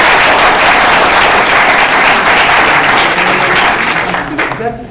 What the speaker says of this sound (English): give her and her team a good round of applause